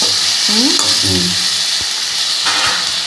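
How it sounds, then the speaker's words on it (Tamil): Tomatoes sautéing in a pan give a steady close sizzle and frying hiss, with brief stirring scrapes and faint low voiced sounds beneath the crackle. "தக்காளி நல்லா வதக்கணும்."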